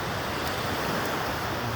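Sea waves wash onto a shore at low tide with the reef exposed, a steady, even rush of surf with wind noise and no voices.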